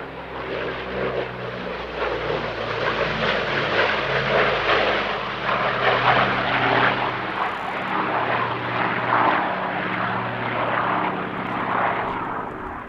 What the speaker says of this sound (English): This is the only airworthy DC-6 in Europe.